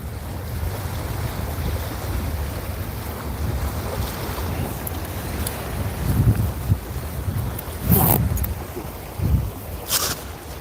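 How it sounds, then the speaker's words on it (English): Strong outdoor wind buffets the microphone with continuous low rumble and gusty bursts, growing rougher near the end. "it's a little windy out here"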